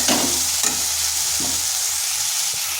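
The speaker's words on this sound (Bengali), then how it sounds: "আঁচটাকে স্লো করে আলুটাকে এইভাবে নেড়ে চেড়ে হালকা ভাজা ভাজা করে" Potato pieces stirred and lightly fried in a pan over low heat, a steady sizzle broken by several scraping stirs of the utensil, close and loud with no voices.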